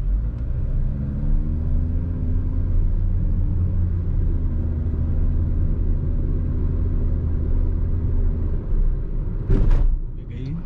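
An MG ZS pulls away from a standstill on city streets, a low, steady engine and road rumble heard from inside the cabin with a brief knock near the end. A person talks over the sound.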